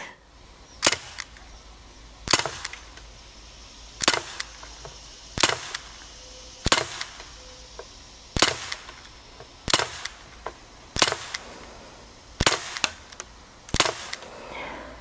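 A Daisy Powerline 5501 CO2 BB pistol is fired offhand, about ten sharp, loud, evenly spaced shots roughly every one and a half seconds, each a crisp pop, with no talking between them.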